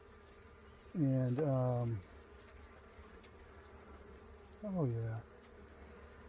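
Honeybees from a feral colony crawl over a foundationless comb frame, a steady close buzzing hum beneath two short spoken remarks.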